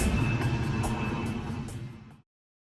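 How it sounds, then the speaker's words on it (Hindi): An airplane flies overhead in a night scene from a Hindi-dubbed film, a broad, steady rumbling roar that holds for about two seconds, thins out and then cuts off abruptly. "जल्दी आओ, हवाई जहाज।"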